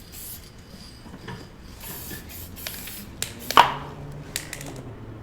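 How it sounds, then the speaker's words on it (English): Aerosol spray can misting sealant onto a canvas for a resin and alcohol ink piece, a soft hissing spray with a brief louder burst near the end, close by over faint background rustling. "Do a little test spray just to see how awesome."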